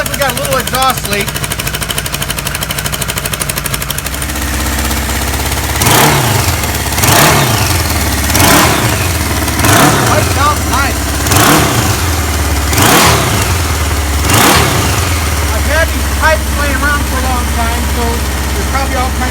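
A 1977 Kawasaki KZ1000 motorcycle with a slight exhaust leak revved outdoors in snow, a steady idle, then six sharp evenly spaced throttle blips rising and falling in pitch, close and loud, then settling back to idle.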